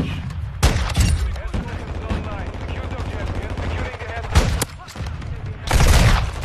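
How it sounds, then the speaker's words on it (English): Rapid gunfire from a first-person shooter video game crackles in dense volleys with sharp loud shots, a busy mix of game effects and a voice talking through the action. "I'm shooting their feet."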